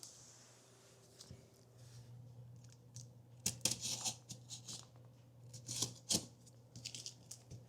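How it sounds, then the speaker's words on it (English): A super sharp knife slices through the cardboard box of a Corsair TC100 gaming chair, making quiet scraping and crisp tearing bursts over a steady low hum, with louder clusters of cuts toward the end. "Always cut away from myself, especially with this knife because it's super sharp,"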